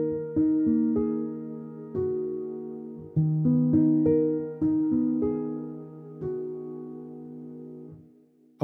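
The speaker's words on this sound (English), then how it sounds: "a mixture of a muted grand piano and this sort of shimmering, spacious pad behind it" A muted felt grand piano patch layered with a shimmering, spacious pad from Spitfire Audio Composer Toolkit plays soft, slow chords and single notes, each decaying gently, alone and close.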